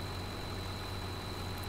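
A Deutz-Fahr tractor idles in a farming video game, a steady low engine drone with a constant hum and a thin high whine, unchanging and alone throughout.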